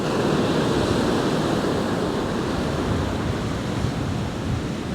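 Fierce sea waves crashing on Happisburgh beach, a continuous heavy roar of surf mixed with gusting wind buffeting the microphone, loud and unbroken throughout.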